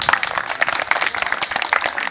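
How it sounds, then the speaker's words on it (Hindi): Schoolchildren clap steadily and loudly at a donation ceremony at a government primary school, a dense continuous patter of applause from a crowd. "जोरदार तालियां बजाते रहे बच्चे"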